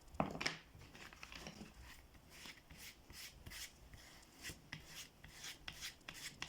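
Contact cement adhesive is scraped across a sandal footbed in quiet, repeated rasping strokes, soft and close, with an irregular rhythm and a sharper knock near the start.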